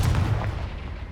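A Confringo blasting-curse explosion in Hogwarts Legacy: a deep, booming burst with heavy low rumble that sustains briefly and then fades, loud and close.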